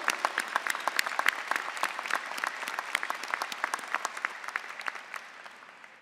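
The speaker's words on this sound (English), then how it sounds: "Let's give them a round of applause, please." Applause from a large audience at a university fall commencement ceremony, a dense, steady ovation with many crisp individual claps that gradually tapers and fades toward the end, heard alone at moderate distance.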